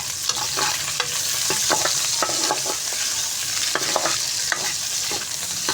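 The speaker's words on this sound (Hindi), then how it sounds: "प्याज़ों को भी हम इसी तरीके से फ्राई कर लेंगे और प्याज के साथ ही हम सब्ज़ मिर्ची ऐड करेंगे" Onions and green chillies frying in a pan for Afghani burani baingan, a loud continuous sizzle with quick, repeated spatula scrapes and taps close by.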